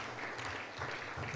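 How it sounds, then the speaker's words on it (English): Brief, faint applause from a crowd, a soft continuous patter of clapping heard from a distance. "can we all give ourselves a big round of applause?"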